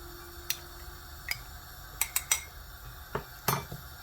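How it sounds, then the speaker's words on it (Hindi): A metal spoon stirring custard in a pot, heard as quiet, irregular scraping clinks and taps against the pot's sides, about eight brief strikes over a soft background. "साथ साथ हम ये चमचा भी चलाते जाएंगे।"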